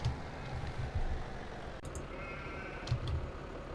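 Sheep bleating in the Farming Simulator 17 video game, a few short low bleats rising over steady background game noise, with no talking.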